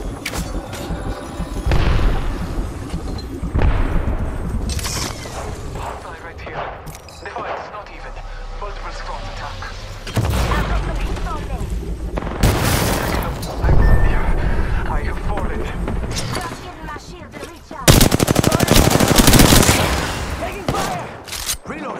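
Gunfire in the video game Apex Legends: repeated bursts of rapid shots and heavy booming impacts, some distant and some close, with voices talking between and over the shooting.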